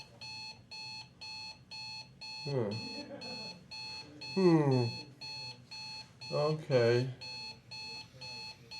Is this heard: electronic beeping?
yes